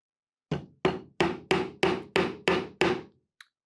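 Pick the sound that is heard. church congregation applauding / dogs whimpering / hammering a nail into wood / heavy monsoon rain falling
hammering a nail into wood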